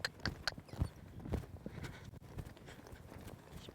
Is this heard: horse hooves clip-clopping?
yes